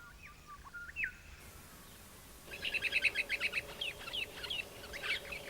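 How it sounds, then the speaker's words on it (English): Faint chirps at first, then a brighter burst of rapid, twittering dusky woodswallow song with short repeated phrases over a low background hum, in Australia. "The dusky wood swallow's lovely song is very rarely heard."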